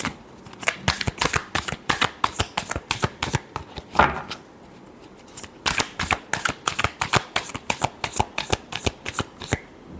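Tarot cards are shuffled by hand during a reading, making rapid, crisp riffling bursts that repeat in a fast, uneven rhythm for the whole stretch, close and fairly loud with no speech.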